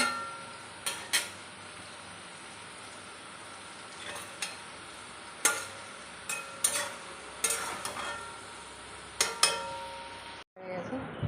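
Water spinach (kalmi shak) stir-fried in a pan: a continuous low sizzle broken by sharp, irregular spatula scrapes and clacks against the pan, with a brief silence near the end.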